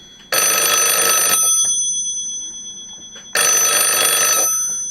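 A telephone bell rings loudly in two bursts about a second long, separated by a pause, with no talking.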